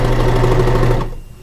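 A serger stitches elastic onto a cloth diaper in one fast, steady mechanical whir that stops abruptly after about a second, close and loud with no talk.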